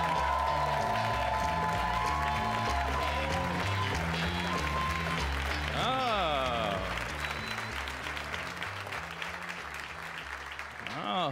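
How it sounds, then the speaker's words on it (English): Applause and cheering from a comedy club audience run under a steady band of music, with a brief tonal sweep midway; loud and continuous, fading slightly near the end. "How about a big round of applause for Ryan Schutt?"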